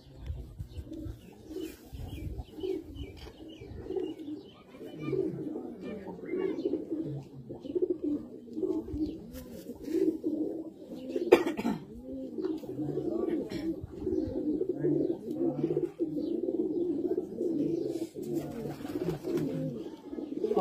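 Flying pigeons coo steadily in a loft, a dense overlapping murmur of low throaty calls running throughout with a few brief sharper bird sounds.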